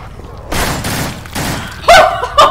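Gunfire in the zombie video game No More Room in Hell: a burst of loud close shots, then a pause and two more sharp blasts near the end, with excited voices talking over it.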